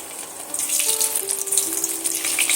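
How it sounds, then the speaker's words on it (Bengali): Boiled potatoes drop into hot oil and fry with a loud, bright, continuous sizzle close by, with a low tonal hum running underneath. "যে সিদ্ধ করা আলু ছিল সেটা আমি তেলের মধ্যে অ্যাড করে দেব"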